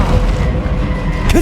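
A spell blast from Hogwarts Legacy gameplay lands as a heavy, loud booming rumble that fills a short moment, ending in a brief swooshing flourish.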